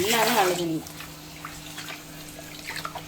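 Tap water pours steadily into a vessel in a home kitchen to soak ingredients for prawn biryani, a close, continuous splashing trickle that plays under a voice at the start and then carries on alone.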